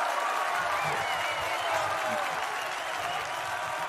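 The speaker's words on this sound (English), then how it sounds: "Let's give a round of applause." A crowd at a leadership gathering claps, sustained applause with some voices and faint cheering mixed in, steady in loudness for a few seconds.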